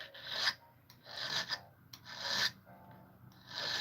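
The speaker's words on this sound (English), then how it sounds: "Filing to get it to line up better." Short back-and-forth strokes of a file on a silver piece being fitted for soldering, a close, rhythmic rasp repeating about four times with brief pauses between strokes.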